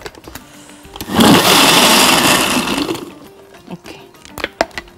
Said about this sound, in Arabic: ضربة كده في الخلاط